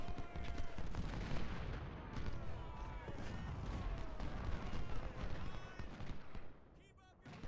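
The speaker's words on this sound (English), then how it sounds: "Oh god, that's a lot of artillery shooting at us." Dense Civil War battle din from Ultimate General: Civil War, artillery booms and musket volleys layered into a continuous rolling clamor, with someone talking over the fighting.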